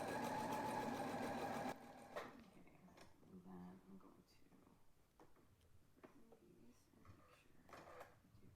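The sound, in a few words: sewing machine stitching a pocket onto a dress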